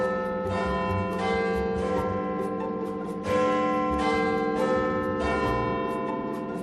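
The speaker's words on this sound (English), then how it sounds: "I watch the hammer hit the bell on the first stroke of the hour" Big Ben's hour bell in London is struck by its hammer, ringing several deep, resonant strokes with long humming decays that overlap, loud and alone.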